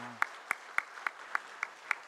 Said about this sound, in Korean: 우리 하나님 앞에 감사의 박수를 한번 올려드리겠습니다